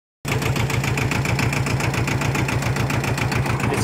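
Yanmar YM2000 tractor engine running steadily while pulling a landscape rake through grass on a new garden plot, a loud close diesel chugging with a fast, even rhythmic pulse throughout.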